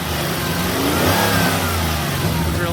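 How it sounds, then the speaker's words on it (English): A Chevrolet K5 Blazer engine revs up loudly and close by, a throaty, rumbling roar that swells and settles over a few seconds. "Give it a couple revs."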